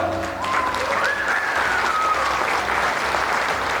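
Wedding guests clap in sustained applause for a newly married couple, a dense, even crowd of hands heard fairly close, with a faint voice or tone drifting underneath.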